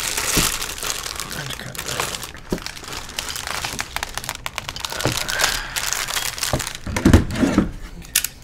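A box cutter slices open a package, producing close crinkling and tearing of plastic and cardboard in irregular bursts, with a few sharper snaps, under occasional speech.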